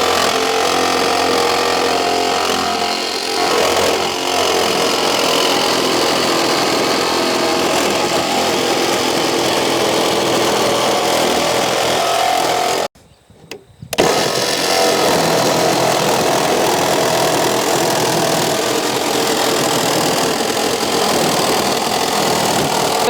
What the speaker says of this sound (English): a larger pilot hole that is going to fit the edge of the jigsaw on it. And now it is time to cut the hole.